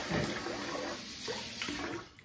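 Water runs into a container for a shave brush and soap session, a steady splashing pour lasting about two seconds, close and moderately loud with no talking.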